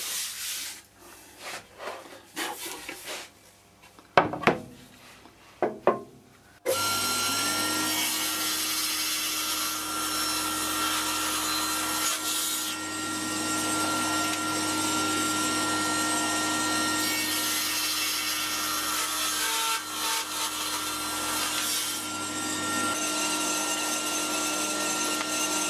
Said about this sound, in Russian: Надо просто включить станок и приподнять пильный диск над листом ДСП.